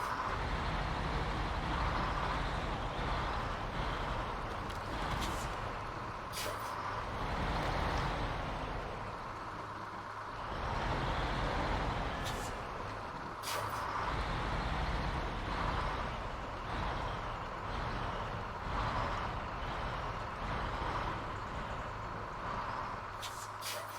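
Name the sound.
GMC truck engine driving with trailer, video game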